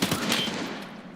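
Rapid gunfire in a video game: a dense, continuous burst of shots that holds steady and then slowly tails off, heard alone with no talk.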